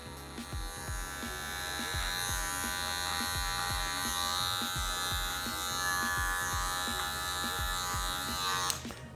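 Electric hair clipper fitted with a 1.5 guard trimming a beard, a continuous near buzz broken by repeated rhythmic strokes against the hair, ending with a sharp click.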